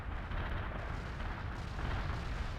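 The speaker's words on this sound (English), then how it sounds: "Artillery barrage inbound." Artillery barrage in World in Conflict, a continuous low rumbling wash of distant explosions with muffled booms blending together, steady and fairly quiet, with no talking.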